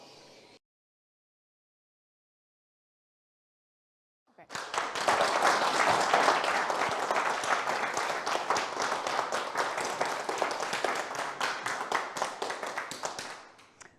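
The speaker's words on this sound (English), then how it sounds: "That was a very nice round of applause." An audience at a live-streamed event breaks into a round of applause after a pause, sustained, dense clapping from many hands for about nine seconds before it tapers off.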